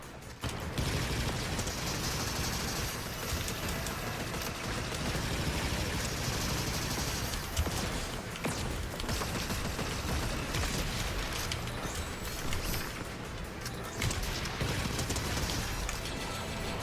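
The ACP Pump shotgun fires repeatedly in Fortnite, with dense, loud bursts of blasts layered over continuous game noise across the whole stretch.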